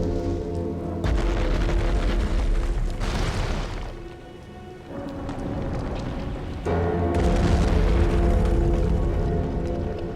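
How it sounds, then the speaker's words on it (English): Fire blown from a torch in the Elden Ring video game comes as sustained roaring whooshes, loud and close, in two long bursts with a quieter gap between them. "I can get the torch and I can blow fire with it"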